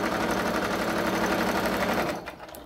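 Sewing machine stitching through a padded oven mitt, a loud close rapid chatter of the needle and motor running steadily before winding down and stopping near the end.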